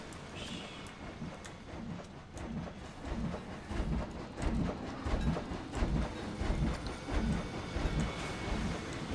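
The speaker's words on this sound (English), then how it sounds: "they could also be tired of hearing the train going around" A train runs around its track in the theme park game Planet Coaster, giving a rhythmic rumbling clatter of wheels over rail joints that builds in loudness and repeats steadily, with no talk over it.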